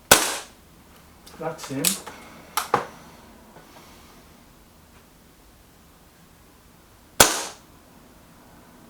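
Shots from a BSA Defiant air rifle at a target range: one sharp crack at the start, a brief cluster of clicks and rattles around two seconds, then a second crisp crack near seven seconds, with sparse quiet talk between.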